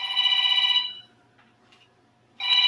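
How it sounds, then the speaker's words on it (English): A phone rings with a bright electronic ringtone, one long ring, a pause with faint background noise, then the next ring starting, loud and close. "Answer your phone, man."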